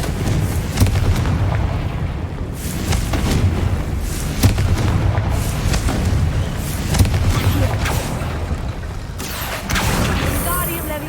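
A Confringo fire spell in Hogwarts Legacy lands repeatedly, with a series of booming explosive bursts and crashes over constant battle noise.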